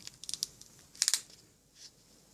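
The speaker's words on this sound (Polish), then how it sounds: "My użyjemy żyletki, bo znacznie wygodniej nam jest niż, niż dziubanie tam nożyczkami." A razor blade cuts a small hole into a cotton ball for a cotton ball string light: a few crisp, close snips and crinkles, then a quick cluster of sharper cuts, all quiet and brief.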